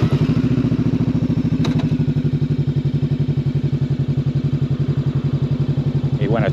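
A Macbor Montana XR5 motorcycle with a jerking, surging fault pulls away on a slow road, its engine thumping in a steady, close, rapid beat that holds for the whole stretch.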